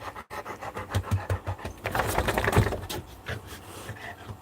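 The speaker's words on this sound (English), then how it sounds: "Pretty dog. You're gonna be a happy dog." A dog panting in rhythmic breathy bursts close to the mic inside a truck cab, with some rustling and a brief thump partway through; no one talks.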